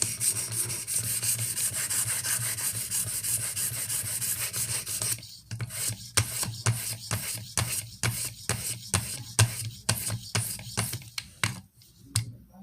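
A Benchmade 13940 knife is sharpened on a Venev OCB 240 grit stone: a continuous close scraping rub at first, then about a dozen distinct rhythmic strokes, each a short sharp rasp.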